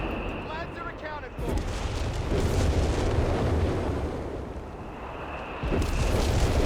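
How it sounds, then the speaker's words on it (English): Artillery fire in Company of Heroes 3, with deep rumbling booms and distant blasts rolling continuously under a dense battle soundscape, mixed with faint chirping game effects. "a lot of artillery sounding off there in the south"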